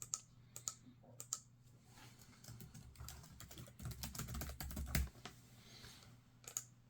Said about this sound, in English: and I can open this up in Notepad and start typing